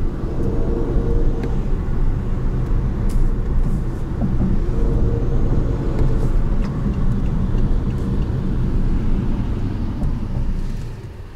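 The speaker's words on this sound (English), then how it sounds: "We're gonna listen to the electric power in the tunnel." A 2019 BMW i8 driving on electric power only through a tunnel, heard from inside as a loud, deep, steady rumble of road and tire noise with faint ticks over it and no talking.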